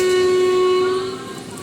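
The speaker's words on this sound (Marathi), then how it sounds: "पाच अठ्ठावीसला ट्रेन सुटली" A Jan Shatabdi Express train leaving Dadar, Mumbai sounds a loud, steady horn close by as it runs, the blast fading toward the end.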